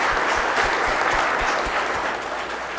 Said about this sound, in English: let's give them both a big hand of applause